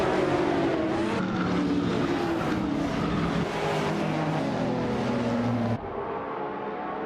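A 2008 BMW Z4M Coupe GT3 and rival race cars roaring in a racing video game, loud continuous engine whine shifting pitch, ending with a sudden cut to quieter engine noise.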